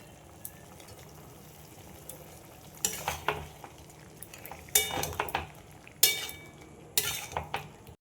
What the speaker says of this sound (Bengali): আর এর মধ্যে দিয়ে দেবো কিছু চিংড়ি মাছ